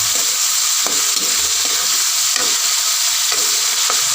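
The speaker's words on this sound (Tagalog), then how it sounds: "Kasunod na ang karne. Ayan. Ilikus-likus ulit guys." Meat sizzles steadily in a hot frying pan while it is stirred, a constant loud hiss broken by soft scrapes and taps of the utensil at irregular intervals, close up with no talking.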